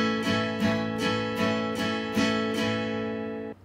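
Acoustic guitar chords strummed with a plectrum in a plain, even strumming pattern, a close, moderately loud series of regular down and up strokes ringing for a few seconds.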